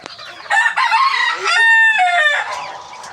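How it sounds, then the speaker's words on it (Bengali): A rooster crows loudly and close by in a farmyard where chickens are feeding and clucking, the drawn-out crow rising and falling over about two seconds. "এই যে সব খাইতেছে মুরগি, সব খাইতেছে।"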